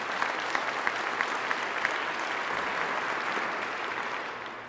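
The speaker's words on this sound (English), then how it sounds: "I'd appreciate you guys giving them a round of applause." A large audience at a 2019 State of Our City event applauds steadily, a dense wash of many hands with a few sharper claps standing out, fading slightly toward the end with no talking.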